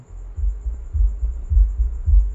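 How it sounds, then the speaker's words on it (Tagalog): A deep low-frequency hum from an active subwoofer throbs in a steady pulsing rhythm, loud and close, with no voices. "may ugong na tayong naririnig"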